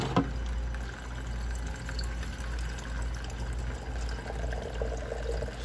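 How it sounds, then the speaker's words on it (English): Water draining out of a Bio quantum water heater, a steady close rush of flowing, pouring water with a constant low rumble throughout, no voices. "we're just gonna release all the water that's in there"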